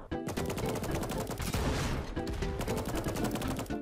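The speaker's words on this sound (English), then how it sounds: "Also it has the biggest explosion in the game," Mortar tower explosions in the video game Tower Defense Simulator, a rapid barrage of sharp blasts and crackling bangs stacking into one dense, continuous burst of fire.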